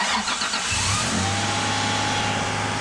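A car engine cranks and catches after corrosion repair, the starter turning briefly before the engine fires up and settles into a steady idle, close and clear.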